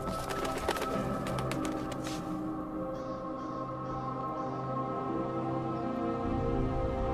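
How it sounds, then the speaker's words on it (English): Bird calls from the Thief video game, where crows are meant to be heard, sound out over a steady ambient bed, with a few sharp cries early on and softer repeated calls later, fairly faint. "And those are the crows"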